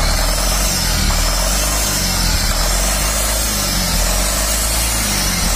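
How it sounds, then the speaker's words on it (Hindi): A Tata Mega with a black smoke and pickup problem runs with the accelerator pressed, giving a loud, steady, close engine drone with only slight swells in pitch. "एक्सीलेटर करो, हाँ करो, पूरा फुल अप डाउन करो।"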